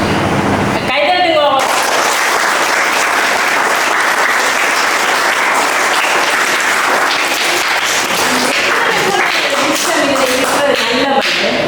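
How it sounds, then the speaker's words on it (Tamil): Students at an education center applaud together in a loud, close burst of clapping that continues for over ten seconds, with brief voices rising above it near the start and toward the end. "கைதட்டுங்க."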